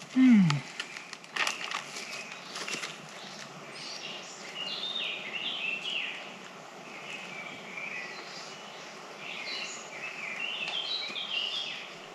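Birds chirp and twitter through a natural outdoor setting, a busy scatter of high calls over a faint background hiss, preceded by a brief voice at the start.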